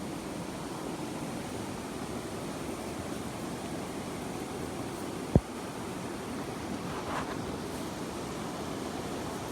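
The cold Arun Koshi river rushes past a stony riverbank in a steady, broad roar, with a single sharp tap partway through.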